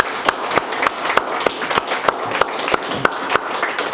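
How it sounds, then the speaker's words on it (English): An audience at a town council award presentation applauds with a steady, lively patter of many hands clapping, sustained and fairly close throughout. "Can we have a round of applause?"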